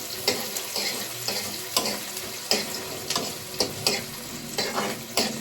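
Onion and green chili fry in hot oil with a steady close sizzle, broken by repeated clinks and scrapes of stirring that come every half second or so, with no talking.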